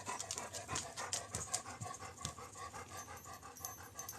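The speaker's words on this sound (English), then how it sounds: "I'll get rid of the huffy dog." Charlie, a dog on a cattle farm, huffs and pants close by in fast, steady breaths that run without a break.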